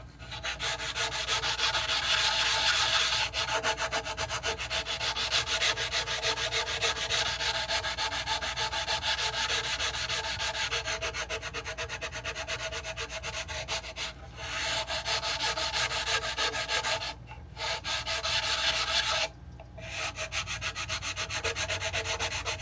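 A walnut cutting board is sanded by hand with 80 grit sandpaper. The rough scraping runs loud, close and continuous, broken only by two brief pauses near the end.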